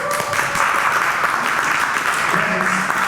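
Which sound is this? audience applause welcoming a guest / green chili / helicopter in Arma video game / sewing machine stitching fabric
audience applause welcoming a guest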